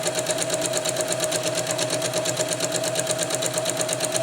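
Sewing machine runs a second stitching pass along a hammock bug net seam, a fast, even, mechanical whir with rapid regular needle clatter, loud and close, no talking.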